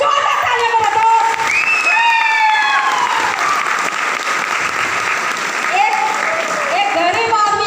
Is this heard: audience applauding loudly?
yes